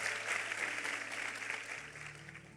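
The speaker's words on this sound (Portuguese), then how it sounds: "Vamos aplaudi-lo, vamos ficar em pé" A church congregation applauding at a Wednesday worship service, steady sustained clapping from many people filling the room, moderately loud and even throughout.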